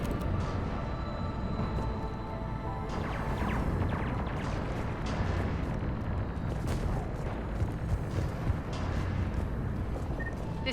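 Heavy cannon fire in the Mass Effect 3 video game, a dense barrage of booms and crashing impacts rolling on continuously over a game soundtrack, with no talk.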